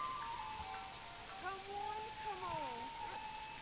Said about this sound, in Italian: E piove tanto perché siamo in autunno.